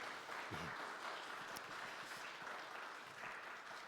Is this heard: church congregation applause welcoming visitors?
yes